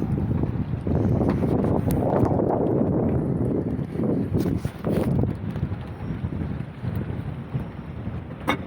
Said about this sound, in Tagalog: Mahangin masyado ngayon.